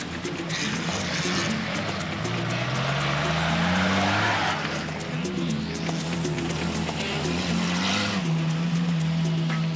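Off-road race cars in timed practice on a greasy, muddy 10 km circuit at Chevannes during a 2001 24-hour all-terrain race, engines roaring and revving loudly and continuously as they pass close by, with wheelspin and skidding.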